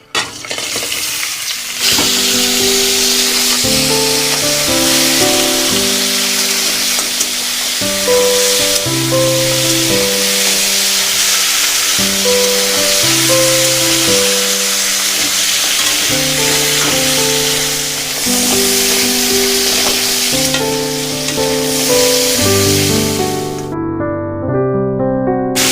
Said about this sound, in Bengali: আমাদের কাঁকড়াগুলো ভাজা হয়ে গেছে